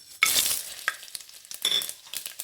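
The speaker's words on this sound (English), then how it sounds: "The oil is really hot. We will add the spices," Whole spices (bay leaf, cloves, fennel and cinnamon sticks) hit hot refined oil in a cooker, setting off loud bursts of crackling sizzle that surge, fade and flare again.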